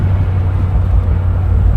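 A 1964 Cadillac Deville convertible cruising at about 40 mph, a steady low engine and road rumble with wind noise, constant and close, with no talking.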